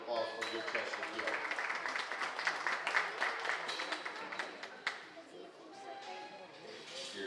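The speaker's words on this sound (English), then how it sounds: "Let's give that young lady a nice round of applause for a good Chester gilt." An audience at the Dewey County livestock show gives a round of applause after a Chester gilt is shown, with quiet, scattered clapping that fades midway while voices carry on faintly.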